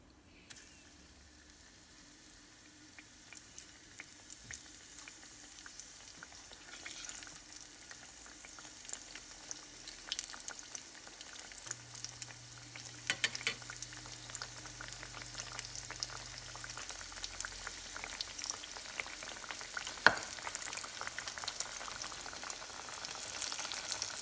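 Breaded green tomato slices, coated in flour, egg and breadcrumbs, fry in a pan with a steady, moderately loud sizzle and crackle throughout, with no talking.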